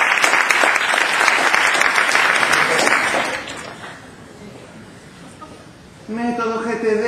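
Applause from a seminar audience swells loudly for a few seconds, then fades to quiet, and a voice starts speaking near the end.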